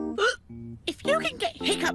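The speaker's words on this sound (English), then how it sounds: "how am I going to get rid of these hiccups?" A child hiccups repeatedly in quick, voiced bursts mixed with short vocal sounds, close and fairly loud.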